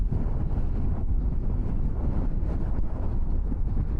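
Strong wind roars steadily across a mountain road on the Padum to Kargil route in Ladakh, a loud, unbroken rush buffeting the microphone with no talking.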